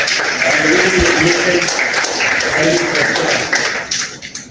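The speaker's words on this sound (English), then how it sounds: "Let us clap for the entire group." Audience applause after a talk on Vedic culture, dense continuous clapping from a room of listeners, loud and close, thinning out toward the end.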